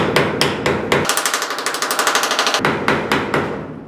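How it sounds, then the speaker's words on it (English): Rapid, sharp hammer taps on a wooden block against a car door hinge, close and loud, in an even rhythm that speeds into a steady series before slowing again. "kind of tap that up a little bit."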